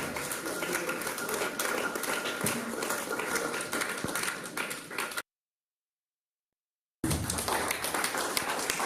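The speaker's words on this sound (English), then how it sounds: "Keep clapping, keep clapping." Applause from an audience at a parents' summit as a speaker comes to the microphone, a dense, sustained roar of clapping that cuts to silence midway, then resumes.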